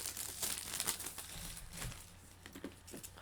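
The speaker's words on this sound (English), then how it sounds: "Hope those cellophane noises weren't too close to the microphone." Cellophane wrapping is pulled and crinkled off a chess set box, a close, busy crackling with soft taps and rustles running throughout.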